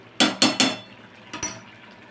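A spatula scrapes and knocks against a pan while mixing ghee into cooked spinach, three quick close metallic clacks followed by a pause and one more, with no talking.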